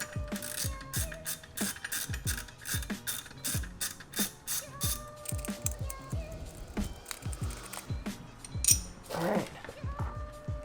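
A ratchet wrench clicks steadily while backing out 10mm triple square head bolts on a B9 Audi S4 during a rear sway bar and transmission mount install, with rapid metallic pawl ticks in bursts, close up, along with a few tool clinks.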